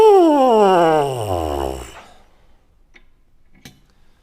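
A trombone mouthpiece buzzed on its own, giving a loud, reedy, sliding drone that falls in pitch for about two seconds before stopping, followed by near silence with a couple of faint clicks.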